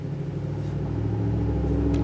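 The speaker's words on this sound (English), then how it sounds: "as a car rumbles by" A car passes nearby with a low steady engine rumble that holds for a couple of seconds and swells slightly toward the end.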